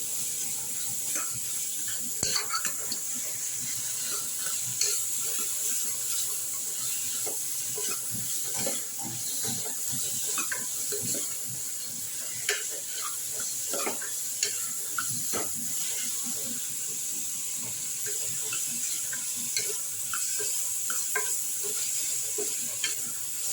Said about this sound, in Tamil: வெங்காயம் நல்லா ரோஸ்ட் ஆகும்